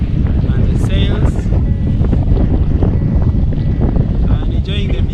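Strong wind buffets the microphone aboard a sailboat on a lake, a loud, steady rushing roar that runs the whole time while a person talks over it.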